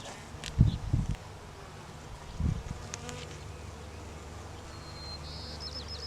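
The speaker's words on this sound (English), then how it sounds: "Busy bee" Honey bees in an open hive with a large brood-filled cluster, giving a low steady buzz throughout, with a few soft handling thuds and rustles near the start and a faint high whine toward the end.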